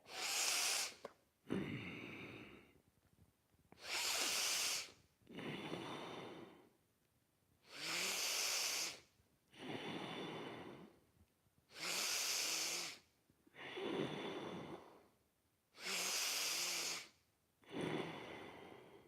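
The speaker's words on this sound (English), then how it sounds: "Let's bring Ujjayi breath for the last 5 breaths" Slow, audible Ujjayi breaths during a yoga practice, a steady rhythm of about eight long hissing inhales and exhales with short pauses between them, close and alone with no talking.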